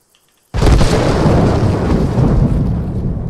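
A UAZ vehicle mounted with a PKM machine gun is blown up in a video game: after a moment of silence a sudden loud blast gives way to a long, heavy rumbling roar that slowly fades.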